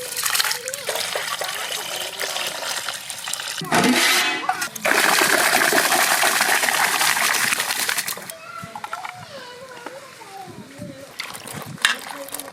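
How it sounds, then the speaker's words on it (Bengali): Rice being washed in water for a village mutton curry gives off splashing, sloshing water, loudest in the middle stretch and then trickling more softly, with a voice talking over parts of it. "ভালো করে চালটা ধুয়ে নেব।"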